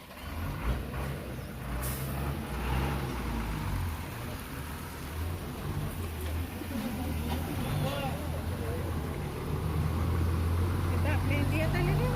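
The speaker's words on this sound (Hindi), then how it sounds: "वहाँ से गाड़ी आ रही है अंदर।" A vehicle rolls in through the opened gate at the Bhutan border crossing, its steady engine rumble and road noise running throughout and growing louder near the end, with people talking over it.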